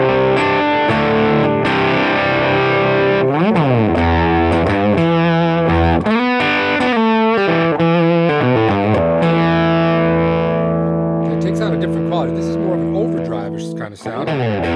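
Electric guitar through a JDM Vindicator germanium fuzz/boost pedal, a Tonebender and Rangemaster combo, playing loud fuzzy chords and riffs with sliding bends and sustained notes, close and continuous, trailing into a short pause near the end.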